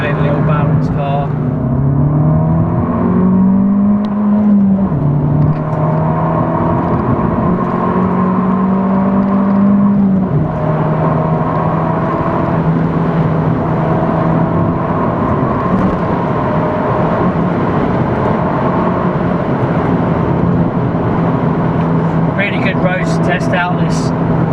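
An Abarth 695c Rivale being driven, its engine note humming and rising and falling as it pulls, with tyre and road noise under steady talk from inside the car.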